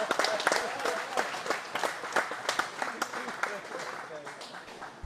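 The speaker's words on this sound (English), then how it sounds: "One more round of applause." Applause from the audience at a professional bowling championship's stepladder finals, a steady wash of clapping that runs the whole time with talk over it.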